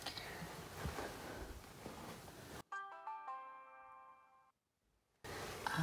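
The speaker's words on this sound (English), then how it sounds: "That is the sound of my dash cam that I just turned off." A car dash cam powering off gives a short electronic chime of several stacked steady tones, stepping in and then holding alone in a quiet gap before cabin noise returns.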